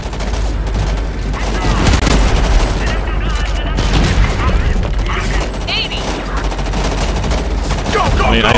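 Dense, continuous gunfire and explosions in Homefront: The Revolution, a wartime shooter, loud and chaotic throughout, with voices shouting over the battle.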